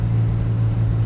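Low, steady rumble of a 1947 Chevy Stylemaster's dual exhaust while cruising down the road at about 55, a constant close droning hum with no talk.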